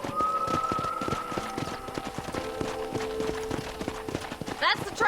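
Steady, rhythmic horse hooves clip-clop in Red Dead Redemption 2 over sustained musical tones, with a brief whinny-like sound near the end.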